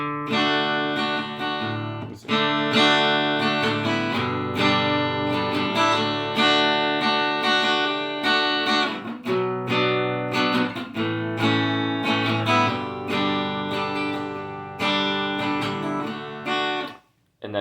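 Strummed acoustic guitar chords moving through the chorus progression of a song, full and steady with a few brief pauses between changes, played close and loud.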